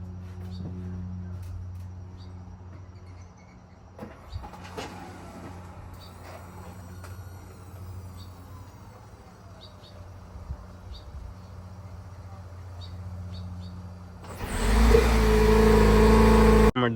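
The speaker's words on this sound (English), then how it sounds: "I'm going to give you guys a warm startup because the car is already warm, but just so you guys know how this engine sounds." A warm 2022 Jeep Rubicon 4xe is started outdoors: mostly quiet low hum with crickets chirping, then the engine abruptly fires up loudly near the end.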